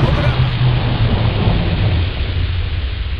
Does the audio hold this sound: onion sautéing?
no